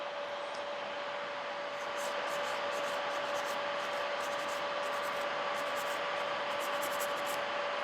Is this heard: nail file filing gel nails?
yes